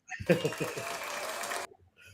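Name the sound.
podcast hosts applauding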